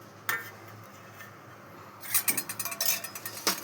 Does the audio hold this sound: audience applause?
no